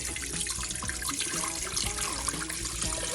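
Tap water runs steadily into a cooking pot on a kitchen stove, a continuous close splashing and gurgling stream with no talk.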